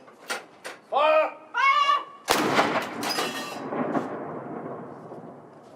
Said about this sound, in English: the gun is about to be fired